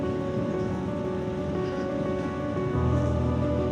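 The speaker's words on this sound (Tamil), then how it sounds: "மறுபடி கொஞ்சம் சாரல் ஹெவியாக அடிக்குது." Heavy drizzle falling during a winter motorcycle ride from Chennai toward Ooty, a steady rushing wash of rain mixed with wind and low engine hum, continuous and fairly loud throughout.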